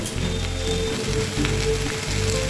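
Four medium potatoes, cut up, frying in a pan in a simple winter vegetable dish, giving a steady close sizzle with soft crackle throughout.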